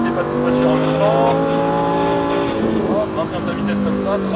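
A Lamborghini Huracan STO accelerates on a race track, its engine note rising steadily through gears with a strong, continuous roar, near and loud, while a driving instructor speaks over it.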